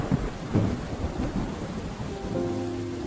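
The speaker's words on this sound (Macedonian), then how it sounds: "Небесата стануваа спотемни, а дождот паѓаше спобрзо." Steady heavy rain pours down with a low rumble of thunder rolling underneath, broad and continuous throughout.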